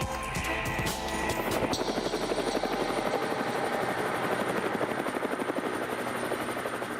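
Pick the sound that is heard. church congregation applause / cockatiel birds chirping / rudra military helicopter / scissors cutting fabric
rudra military helicopter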